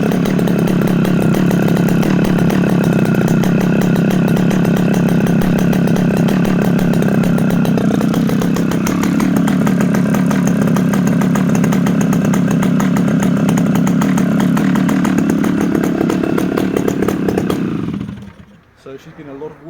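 A restored chainsaw engine runs loudly and steadily at close range for about eighteen seconds, holding a constant buzzing note before it cuts off abruptly near the end.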